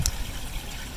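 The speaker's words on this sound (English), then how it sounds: "we're spraying fresh water in the top, and it's got a bunch of nozzles and hoses that flushes that tank" Fresh water sprayed through nozzles flushes an RV black water tank, a brief close rushing gush of liquid with a steady low watery rumble.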